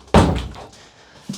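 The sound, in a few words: door being closed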